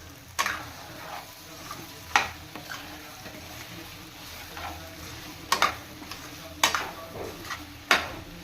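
Chicken with masala being stirred in a pan for a spicy palak chicken fry, with a low steady sizzle and several sharp scraping clinks of a spoon against the pan spaced across the stretch.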